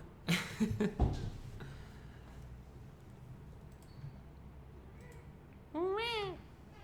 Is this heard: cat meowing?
yes